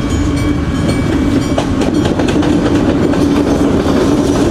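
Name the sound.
train passing a railway gate in Mandalay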